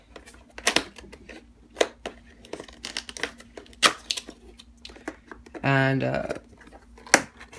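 Blade slices through packing tape and cardboard flaps on a CM Storm Devastator gaming keyboard box, a string of sharp crinkly cuts and tears with a longer ripping burst near the end, close up under occasional talk.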